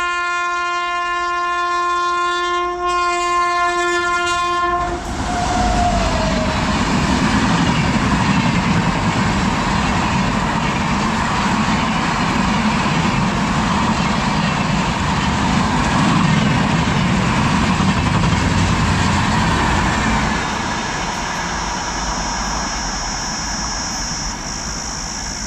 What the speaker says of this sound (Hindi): आज की नेक्स्ट ट्रेन राजपुरा साइड से आ रही है, ट्रेन है अमृतसर न्यू दिल्ली शताब्दी एक्सप्रेस।